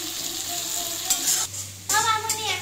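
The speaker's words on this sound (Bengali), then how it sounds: "গোটা জিরে, শুকনো লঙ্কা, গোটা গরম মশলা সব ফোড়ন দিয়েছি, সর্ষের তেলেই করছি আমি।" Whole cumin, dried red chillies, whole garam masala and onion frying in mustard oil, a steady close sizzle with stirring scrapes in the pan and louder crackling bursts partway through.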